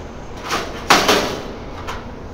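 A door on a chopped 1932 Ford shuts with one solid thump, followed by a softer rattle and a faint second knock, close by with no voices.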